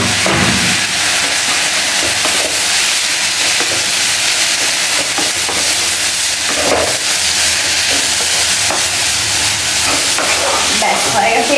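Leafy greens with chili powder fry in a pan, a loud continuous sizzle and hiss with occasional clinks and scrapes as they are stirred.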